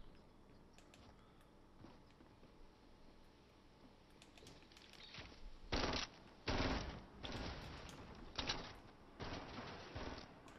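Rapid bursts of gunfire aimed at a player in Fortnite, several loud, close volleys in the second half after a quieter stretch with keyboard clicks.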